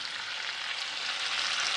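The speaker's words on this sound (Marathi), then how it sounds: "असा लसूण फोडणीमध्ये घातला" Chopped garlic with cumin, bay leaf, cinnamon and cardamom sizzling in hot oil for a tempering for paneer gravy: a steady, close, bright hiss of frying that holds evenly throughout, with no voices.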